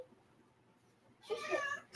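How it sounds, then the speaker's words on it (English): A house cat meows while being carried indoors, one drawn-out, strained meow after a quiet stretch, close and clear, followed by the start of another. "She's kidnapping the cat."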